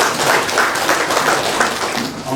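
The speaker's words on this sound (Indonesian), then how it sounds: "Tepuk tangan buat Pak" Applause for the village head at a visit by the NTT governor in Rote Ndao, many hands clapping at once in a steady, dense wash that holds throughout the short stretch.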